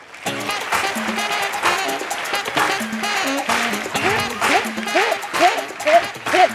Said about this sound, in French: beaucoup d'applaudissements pour Abel Bowala